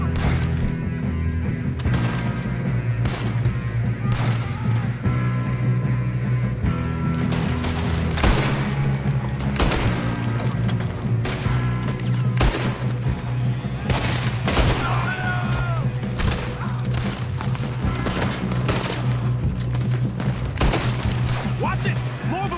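Bursts of gunfire crack through a video game shootout, with repeated shots and heavier booms scattered across a continuous battle din, loud and close, while voices shout over it.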